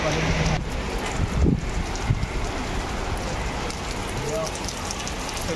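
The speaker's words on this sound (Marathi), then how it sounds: "पाऊस जोरदार पडतोय बेकार." Dense, heavy rain pours down steadily on surfaces at a Mumbai festival pandal beside a fish market, a constant close hiss with a few brief knocks and faint voices underneath.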